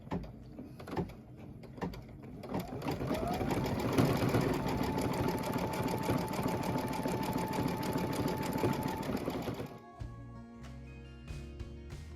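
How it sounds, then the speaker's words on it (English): An embroidery machine stitches a satin line on red fabric pieces of a Fire House quilt block, a dense rapid mechanical chatter building to a steady loud run for several seconds, then stopping abruptly. "this is going to do the whole building satin line all on this red pieces here"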